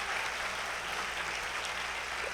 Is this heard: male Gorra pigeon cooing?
no